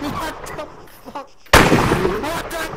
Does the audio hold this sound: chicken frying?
no